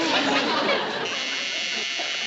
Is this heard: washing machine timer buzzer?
yes